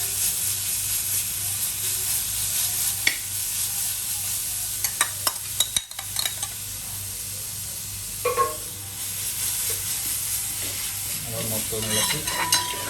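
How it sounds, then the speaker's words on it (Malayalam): Onions frying in a pan with crushed ginger and garlic, stirred by hand: a constant close sizzle and hiss with scattered scraping and clinking of the spoon against the pan, no talking. "അതിനൊരു പച്ചമണം മാറുന്ന വരെ നമുക്ക് ഒന്നുകൂടെ ഒന്ന് ഫ്രൈ ചെയ്യാം."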